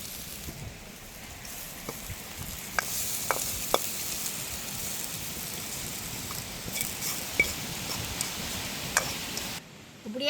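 Tempered spices crackle and sizzle in hot oil as they are stirred into a curry in a village kitchen, a continuous close hiss broken by scattered ticks of a spoon against the pan, stopping abruptly near the end.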